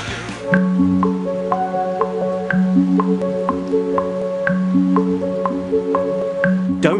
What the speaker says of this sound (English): No, it's the sound of ambient music.